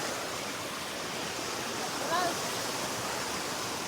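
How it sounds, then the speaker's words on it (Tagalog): A steady, dense hiss of heavy rain from Typhoon Egay in Occidental Mindoro, Philippines, pours without letup, loud and constant throughout. "Hindi pa rin tumitigil yung ulan."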